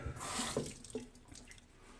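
Water runs from a bathroom tap into a sink at close range, a soft steady splash with a few small taps and drips as it tapers off.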